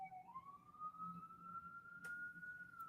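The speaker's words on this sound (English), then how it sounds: "Do you guys hear the sirens?" A siren wails steadily at a moderate distance, its tone sliding up and then holding high, with a couple of brief clicks partway through.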